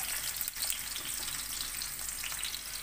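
Onion frying in hot oil gives a dense, steady sizzle that fills the whole stretch, with a brief stir or shift of the pan near the start and no talking.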